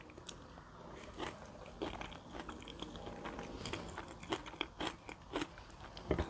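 Crunchy blanched young fireweed shoots are chewed close up in a quiet room, giving soft repeated crisp bites and crackling crunches in an uneven rhythm, with no talking.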